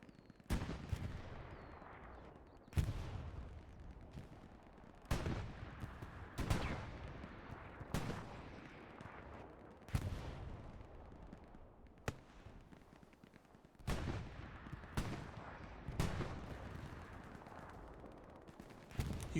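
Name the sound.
rocket ricocheting amid gunfire in the video game Hell Let Loose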